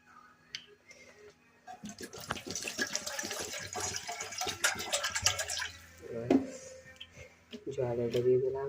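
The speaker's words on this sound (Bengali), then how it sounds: "জল এটা দিয়ে দিলাম।" Water pouring and splashing into a pot to be heated for cooking in a home kitchen, a steady running gush for several seconds with clinks of the vessel, while someone speaks over it.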